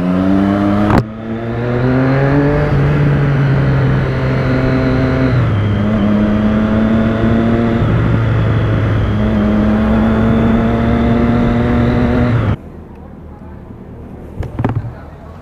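A Suzuki B-King naked motorcycle engine revs hard and holds a loud, steady high-rpm roar, the pitch stepping up and down slightly before cutting off abruptly to quiet with a few faint clicks.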